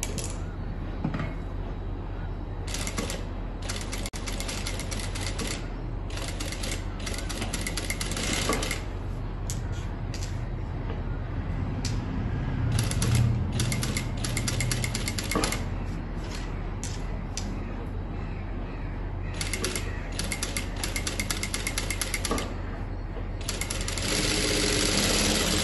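Sewing machine stitching a lined kameez neckline, bursts of rapid mechanical needle clatter starting and stopping in short runs over a steady low hum, no talking.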